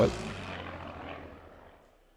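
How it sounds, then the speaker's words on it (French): A recorded airplane flyby: a broad engine roar that is loudest at the start and then slowly fades away as the aircraft passes and recedes, with no voices over it. "ça, c'est un passage d'avion que j'ai enregistré"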